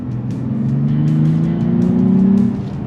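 A 2023 Nissan Z sports car accelerating, its engine note a loud, close, steady drone with rising harmonics through the run, with no talk.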